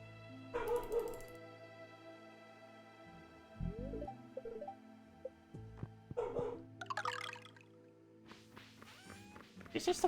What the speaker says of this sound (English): She's been barking a lot recently.